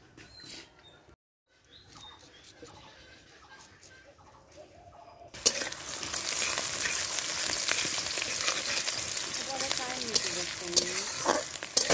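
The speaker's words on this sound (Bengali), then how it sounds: "এখানে তেল ভেজে নিয়ে পেঁয়াজ কাঁচামরিচ ভেজে নিয়েছি, তারপরে হলুদের গুঁড়া, মরিচের গুঁড়া, ধনিয়ার গুঁড়া দিচ্ছি" Onion and green chili frying in oil, then turmeric, chili and coriander powders going in: quiet low clatter and faint voices at first, then a sudden loud, hissing sizzle that continues steadily with stirring scrapes.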